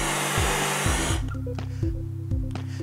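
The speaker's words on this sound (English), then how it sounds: "move the flame in an even motion across the whole surface of the steak, and don't forget the sides" A Sansaire searing torch flame passes over a steak, a loud, close, steady roaring hiss that lasts about a second and then cuts off, with music playing underneath.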